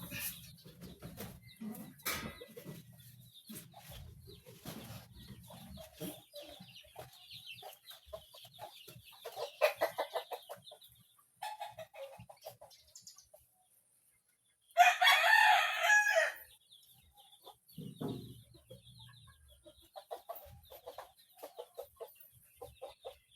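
Hens cluck and chatter steadily among a flock of chickens, then a rooster gives one loud, close crow partway through, followed by more scattered clucking.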